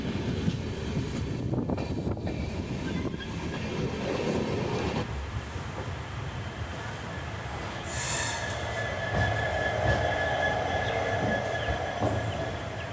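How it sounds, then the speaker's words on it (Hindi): Passenger train 22997, Jhalawar City to Shri Ganganagar, pulls into Shri Ganganagar Junction, its wheels squealing and rumbling over the rails in a steady, loud metallic drone with screeching peaks, and no talking. "1035 किलोमीटर की दूरी तय करने के बाद हमारी ट्रेन आ चुकी है इसके डेस्टिनेशन श्री गंगानगर जंक्शन पर"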